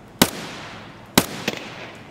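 Two sharp gunshots from Escape from Tarkov, roughly a second apart, each a loud crack with a short ringing tail, the second followed by a few fainter distant pops, with no talking.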